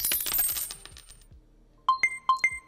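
Bright coin-like chimes from a mobile burger cooking game ring out four times in two quick pairs at the end, following a stretch of softer game sounds.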